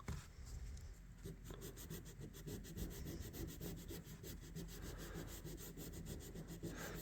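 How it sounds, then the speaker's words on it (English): Sandpaper rubbed briskly back and forth over the back springs of a vintage Colonial electrician's knife, a steady run of close, raspy strokes in a quick even rhythm with no talking. "Let's just hit the back springs quick. A little sandpaper. Get it roughed up a little bit."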